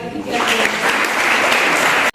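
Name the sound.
applause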